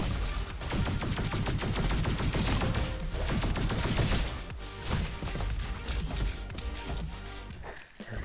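Arctic Rifle fire in the video game RoboQuest, rapid dense shots hammering almost continuously at close range, thinning out toward the end.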